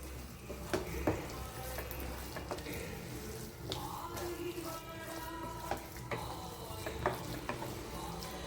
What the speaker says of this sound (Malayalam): ഇനി നന്നായി ഒന്നുകൂടെ ഇളക്കി യോജിപ്പിച്ചിട്ട് നമുക്ക് സ്റ്റൗ ഓഫ് ചെയ്യാം